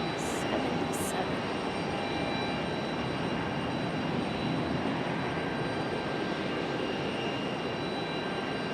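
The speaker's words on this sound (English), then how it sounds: "Beautiful A319 departure." An American A319 jet departs Raleigh-Durham, a steady broadband engine roar with thin high whine tones, moderately distant and even throughout, with brief faint clicks near the start.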